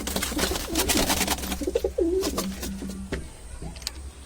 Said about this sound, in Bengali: এখানে সব নর পায়রা আছে